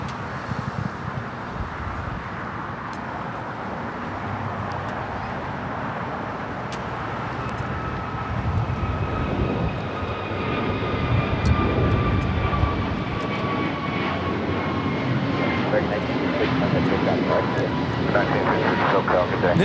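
An American Airlines Airbus A321neo takes off at LAX, its jet engines building into a loud, steady roar with a rising whine that swells and stays strong, while a person talks over it.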